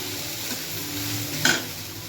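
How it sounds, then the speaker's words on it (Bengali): Okra stirred as it fries in a pan, a steady low sizzle with one brief scrape of the spatula near the end. "এইভাবে মাঝে মাঝে একটু নড়াচড়া করে দেবেন। কালারটা যতক্ষণ না চেঞ্জ হয় সে নাড়তে থাকবেন।"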